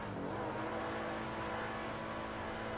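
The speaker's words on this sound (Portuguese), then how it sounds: "Partiu acelerar isso aqui, mano" A turbocharged Hyundai Veloster accelerating in GTA V, its engine roaring in a steady, continuous drone that stays loud and close throughout, with no voices over it.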